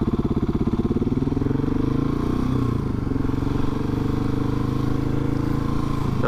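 Husqvarna 701 S motorcycle engine during a wheelie attempt, a loud, steady single-cylinder throb that holds close and constant, shifting slightly in pitch midway.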